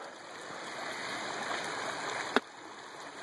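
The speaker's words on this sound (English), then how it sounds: "with that fast moving water, it's going to be hard to shovel stuff out of there" A fast-moving stream at a gold sluicing spot rushes with a steady broadband roar close by. One brief sharp knock breaks the continuous flow, and no one speaks.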